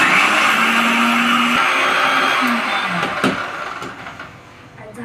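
A kitchen blender grinding Oreo biscuits for a cake, a loud continuous whirring motor roar with a shifting pitch that eases slightly toward the end, with a few clunks, no talk.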